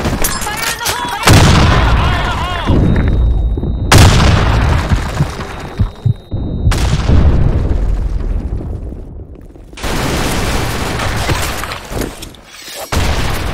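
Grenade blasts in the Blackshot shooter game go off in four separate, loud, booming bursts spaced a few seconds apart, each with a sharp onset and a rumbling tail, amid in-game voice and gunfire noise.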